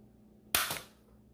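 A single sharp pop from a Corsair Nerf-style blaster firing a dart, a loud crisp snap with a short decaying tail, heard alone in a quiet room.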